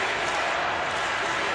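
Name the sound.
home crowd chanting a player's name at water polo match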